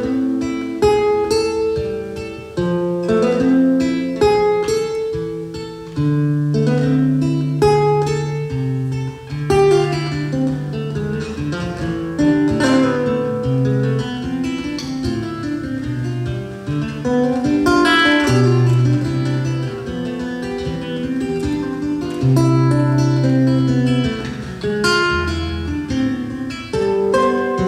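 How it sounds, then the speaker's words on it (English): A lute tune played on guitar fills the whole stretch with plucked melodic lines over bass notes, flowing in a steady rhythm, close and clear, with no talking. "I'll give you an example, a tune like this one, a lute tune."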